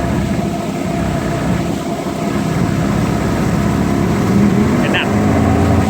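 A motorboat engine drones steadily up close and swells slightly louder toward the end as the boat gathers speed.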